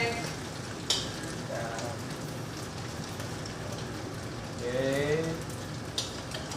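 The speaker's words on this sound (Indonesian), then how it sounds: "Kita terus tumis sampai bawang merah dan bawang putihnya itu layu." Shallots and garlic sauté in oil for Chinese-style fried rice, giving a dense, continuous rain-like sizzle up close, with a few louder spatters and stirring scrapes along the way.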